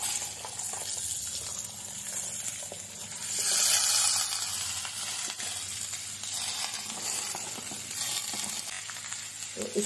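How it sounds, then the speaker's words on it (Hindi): Ivy gourd with turmeric, red chili powder and onion-garlic masala frying in a pan at home, a steady close sizzle with stirring scrapes, swelling louder briefly, no talk. "इसको हम फ्राई करेंगे"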